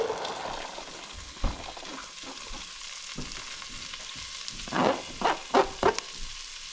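Diced onion going into a hot pot for one-pot chicken pot pie and noodles, with a steady close sizzle and several louder bursts of stirring and hissing near the end, with no one speaking.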